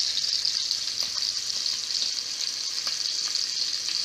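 Steak grease splattering and sizzling steadily in a hot frying pan, a dense continuous crackle with scattered sharper pops, close and fairly loud with no talking.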